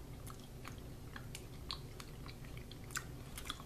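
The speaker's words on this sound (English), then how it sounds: "I'll take the lemon gum, and that would be the blue, and you can take the soda gum. I'm just gonna take a bite." Someone chews a soft stick of Japanese lemon gum, producing faint, close, moist chewing clicks in an irregular rhythm against a quiet background.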